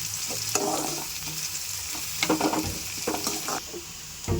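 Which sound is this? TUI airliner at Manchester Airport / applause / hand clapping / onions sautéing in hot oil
onions sautéing in hot oil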